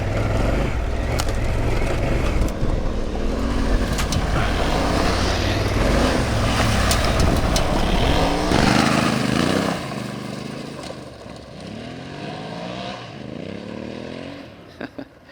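A 2024 Honda Africa Twin Adventure Sports and a Honda Transalp ride off-road in the Australian outback, engines droning loudly and rising and falling with revs, then easing to a fainter, wavering hum as the bikes move off.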